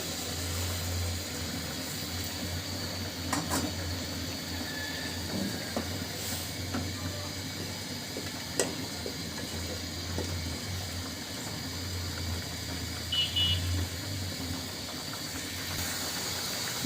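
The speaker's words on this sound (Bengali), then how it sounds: "ঝোলটা কিন্তু খুব ভালোভাবে ফুটতে শুরু করেছে" Catla fish curry gravy with white eggplant comes to a boil in a pan, giving a steady low hiss and bubbling under a faint background hum, with an occasional soft clink.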